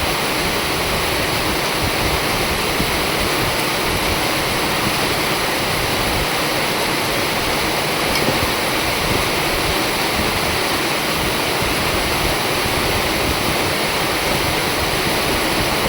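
Rain falling steadily, a dense, even hiss of drops that continues unbroken and fairly loud throughout, with no voices over it.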